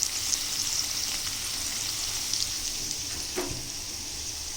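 Steady, hissing sizzle of food frying in a pan, continuous and close, with a faint clink partway through.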